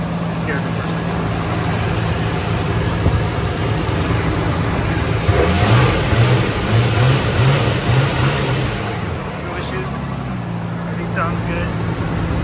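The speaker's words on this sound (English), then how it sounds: "Okay, now the RPMs calm down. Engine sounds fine." An auto turbo Nissan Skyline R34 coupe idles close by after a timing belt change, its engine rising in a brief series of revs midway before settling back to a steady idle while someone talks.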